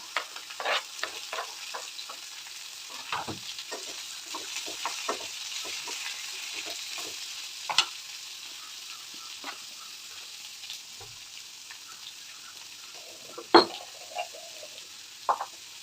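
Cubed chayote fries in a pan, giving a soft, continuous sizzle broken by scraping stir strokes. Quiet and close, with no talking.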